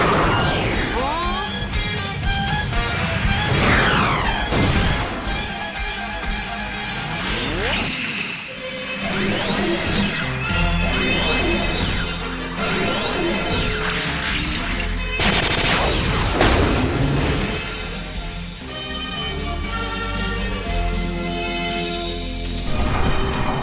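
Gunfire bursts and crashes from the Robotech anime soundtrack come through loud and dense, with music and effects layered over them and voices speaking in parts.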